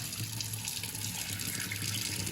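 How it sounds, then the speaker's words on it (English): Rinse water poured off rice in a kitchen, a steady loud pour and splash that runs unbroken for the whole moment. "So we're going to rinse all that off just by rinsing it in the water."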